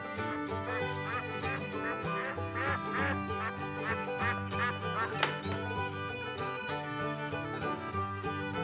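Ducks quack repeatedly in quick bursts over a steady background of music, the calls clear and close.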